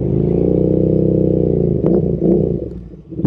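A Royal Enfield Interceptor 650 fitted with an S&S exhaust pipe idles with a deep, loud throb, then blips its throttle in two or three quick revs before settling back.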